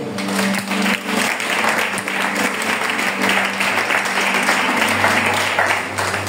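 Congregation at a French-language Christian worship service applauding and cheering for the Lord, dense sustained clapping with crowd voices filling the room throughout, loud and steady with a low hum underneath.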